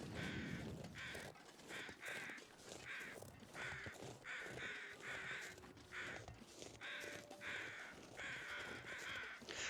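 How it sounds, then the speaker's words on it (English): Crows caw repeatedly through the outdoor ambience of the survival video game The Long Dark, with calls arriving in steady bursts over a constant windy background and no talking. "Yeah, Ruak, the crow sounds are a bit much now."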